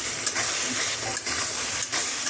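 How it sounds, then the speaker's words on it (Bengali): Chicken frying with spice paste in a pan: a steady, loud sizzling hiss with slight rhythmic surges as the mixture is stirred, close up and uninterrupted by talk. "এবার ভালোভাবে কষিয়ে নিচ্ছি।"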